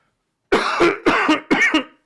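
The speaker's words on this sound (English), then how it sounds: "Sorry for coughing right in the mic there" A person coughs right into a close microphone, three or four harsh, loud coughs in quick succession after a moment of silence.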